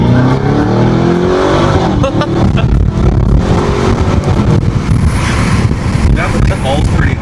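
A heavy supercar launches from a standstill, its engine roaring loud and close as it accelerates hard for several seconds, with a person talking over the noise.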